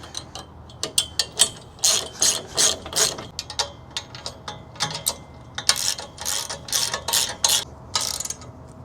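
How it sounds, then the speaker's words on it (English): A socket wrench ratchets while tightening bolts on a Rad Racks bike rack, with repeated bursts of quick, close clicking and short pauses between strokes, and no voices. "I'm gonna get my open end wrench and the socket wrench,"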